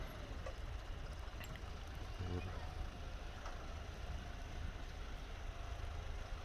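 Tractor towing a shallow plough through a field being prepared for mung bean sowing, water-filled rear tyres, a steady loud engine drone continuing without a break.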